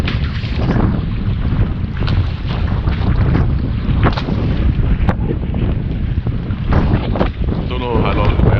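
Strong gusty wind buffets a sailboat moored on a pontoon in an outer harbour during heavy weather, roaring and thumping close to the microphone with sharp knocks, while a voice talks underneath.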